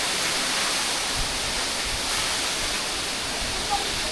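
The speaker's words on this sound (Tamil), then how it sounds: "this is Jogini Falls for you." Jogini Falls near Manali, a mountain waterfall, pours with a steady, dense roar that stays even and loud throughout, with no other clear sounds.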